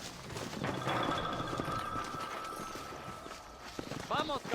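Rapid hoof clip-clops from a trotting horse in Red Dead Redemption, close and rhythmic, with voices talking over them and a sustained tone in the background.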